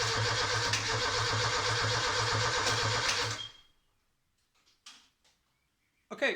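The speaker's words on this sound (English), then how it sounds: "engine does crank and doesn't start" A Proton 4G93 engine cranks steadily for about three seconds without catching, a loud rhythmic starter whir that cuts off into near silence, followed by a few faint clicks and a short bump at the end.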